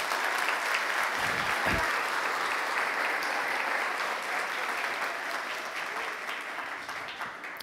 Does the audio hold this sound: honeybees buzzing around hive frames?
no